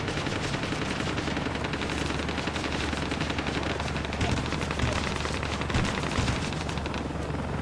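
Sustained aircraft gunfire from the video game Ace Combat: Assault Horizon, a dense continuous rattle of rapid shots that holds steady throughout, with a few heavier bursts near the end.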